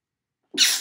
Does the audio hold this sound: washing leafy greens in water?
no